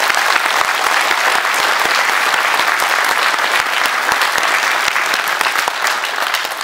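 Enthusiastic applause from a large audience at an outdoor Passion play performance, dense continuous clapping that stays loud and even for several seconds with no talk over it.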